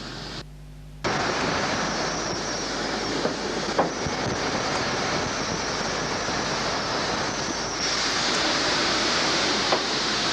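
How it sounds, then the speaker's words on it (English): An 1879 England-built Sharp Stewart B50 class steam locomotive running in Java, a steady broad rumbling roar with occasional clanks, fairly close and continuous. "a Sharp Stewart loco built in England"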